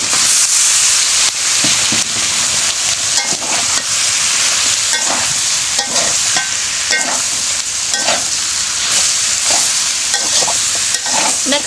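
Eggplant going into a pan of dried fish and potato curry: loud, continuous sizzling and hissing, with repeated stirring scrapes and clanks throughout.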